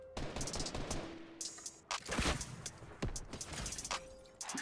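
Gunfire in the video game Fortnite: several sharp, loud shots crack in quick bursts, some close together like rapid fire, over in-game ambience.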